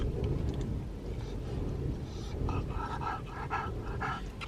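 An older dog panting on a walk toward the beach, its breathing a steady rasp under broad outdoor noise, with faint vehicle-like rumble and a few brief tonal bursts in the second half.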